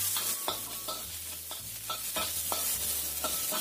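Shallots, garlic, lime leaves and ginger sautéing in a pan, a close, steady sizzle broken by regular scraping strokes of a spatula roughly every half second, with no talking.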